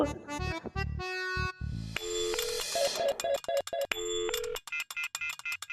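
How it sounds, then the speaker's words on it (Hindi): Telephone number being dialed on a phone: a series of short electronic keypad tones, some rising melodic beeps, then a steady run of quick separate key presses, clear and moderately quiet with no talk. "तुम इस फोन से फोन कर सकते हो"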